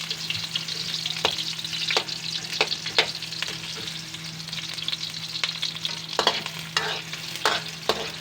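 Onion sautéing in a hot pan while mussels are being cooked, a steady sizzle broken by sharp, repeated scrapes and taps of a spatula stirring, close and without talk.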